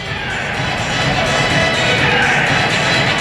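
A crowd murmurs and cheers at an afternoon hockey game held midweek, a loud continuous roar of voices that builds slightly, with scattered shouts.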